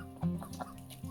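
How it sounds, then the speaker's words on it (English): Chickens cluck in a farmyard shared with ducks, a few short clucking calls close by in a quiet moment. "I got a bunch of other ducks and chickens out here"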